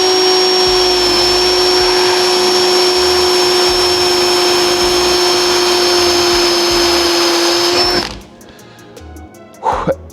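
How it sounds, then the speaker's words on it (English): An electric drill whines loud and steady for about eight seconds, boring holes for pot rivets in a car body panel on a home-built Ultima RS supercar, then stops, leaving faint clicks and a brief clatter. "you don't want to watch drilling, you know, 500 pot rivets"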